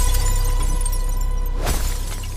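Glass shatters as something crashes into an SUV's rear window, a sharp loud break cutting through a low steady hum and trailing off briefly.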